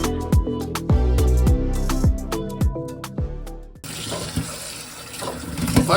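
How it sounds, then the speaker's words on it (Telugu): Raw chicken is rinsed in a kitchen while musical tones play first, then tap water gushes steadily and loudly, with splashing as the pieces are washed. "ఫస్ట్ తెచ్చుకున్న చికెన్ని కడగాలి మై ఫ్రెండ్స్. ఇట్లా మంచిగా రిన్స్ చేయాలి వాటర్లో."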